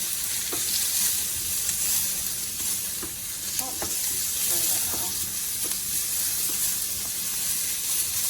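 Bean curry ingredients sauté in a pan with just a little oil, giving a steady close sizzle and hiss with occasional scraping stirs and small pops throughout.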